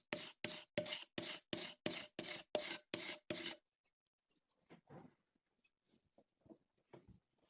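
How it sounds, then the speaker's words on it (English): A card scraper works the inside of an Amati copy violin in about ten even, rasping strokes, close and distinct, then gives way to softer scattered scratches and taps. "So just back with my trusty card scraper."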